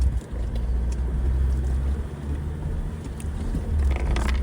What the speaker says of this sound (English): Very slow, just letting the diesel stay at low RPMs and using the gearing.